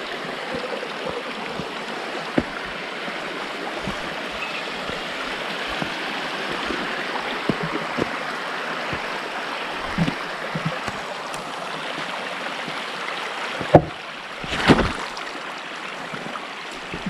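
A flowing stream at Veyyinuthula Kona in Kadapa, a steady broadband rush of water heard close by, with a couple of brief knocks and splashes late on.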